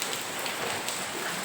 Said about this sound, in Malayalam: ഇന്ന് പൊരിഞ്ഞ മഴയാണ് കേട്ടോ.